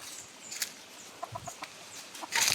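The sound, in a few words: hen clucking while laying eggs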